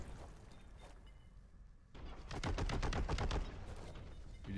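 A heavy bolter fires in Warhammer 40,000: Boltgun, sounding as a loud, rapid burst of repeated booming shots in the middle of the clip, framed by quieter game ambience before and after.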